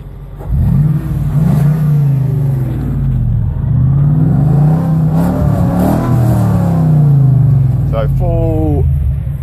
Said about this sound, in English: I'm just going to give it a bit of a rev. One of the great things about this V8 is the noise.